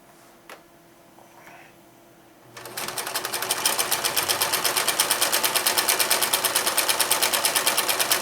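A Kenmore 158 13360 sewing machine starts up after a couple of quiet seconds with a few faint knocks, then stitches at a larger stitch length in a loud, close, even rapid rhythm.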